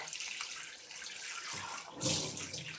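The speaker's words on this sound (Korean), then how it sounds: "찐 브로콜리는 물에 한번 씻어줄게요" Steamed broccoli rinsed under a kitchen tap, a soft continuous stream of running water with light splashing that briefly swells louder near the end, quiet and alone.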